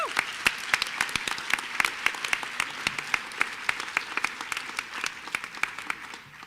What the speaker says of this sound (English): So huge round of applause to Mr. Shader.